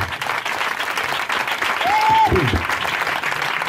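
A church congregation at a Sunday testimony service claps together in sustained, dense applause that fills the room, with voices faintly mixed into the crowd noise.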